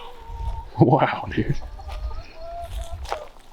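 A chicken clucks in a short burst of close, throaty calls near the start, then gives quieter scattered clucks, while someone speaks briefly over it.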